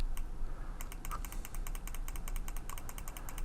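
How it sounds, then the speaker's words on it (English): Rapid, repeated computer mouse clicks during photo editing: a steady run of sharp, close clicks after a brief pause, with no talking. "Click a whole bunch of times."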